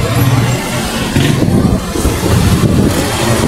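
Cars and motorcycles in a funeral escort through the centre of Jaboatão dos Guararapes, engines rumbling and revving close by in a steady, loud mix of traffic noise.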